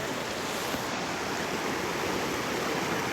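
Freezing cold river water flowing at a spot near hot springs, a continuous even rushing wash that holds steady and fairly loud the whole time, with no talking.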